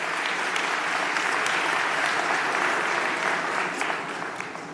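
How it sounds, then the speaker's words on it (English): Town hall audience in Coney Island clapping at a community meeting, a steady, full round of applause from a moderate crowd that carries evenly throughout before tapering slightly at the close. "So give yourselves a round of applause for being out here."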